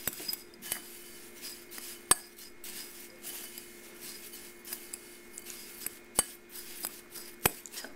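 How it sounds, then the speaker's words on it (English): Melted butter being stirred into a cup of panko breadcrumbs for homemade macaroni and cheese, faint scraping and sharp clinks of a utensil against a bowl at irregular intervals, quiet and close with no voices. "I'm going to take another tablespoon of melted butter and I'm going to add it to a cup of panko. And just mix that in with it"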